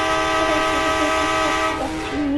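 A train in a video game sounds a sustained, loud, tonal horn blast that holds steady for about two seconds before dipping slightly near the end.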